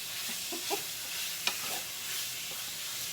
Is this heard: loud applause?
no